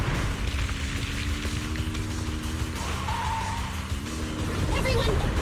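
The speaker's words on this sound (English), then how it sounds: "The ground's shaking!" Deep, sustained rumble of the ground shaking in the video game Zenless Zone Zero, a loud low roar with engine-like droning and rising noise toward the end, continuous throughout.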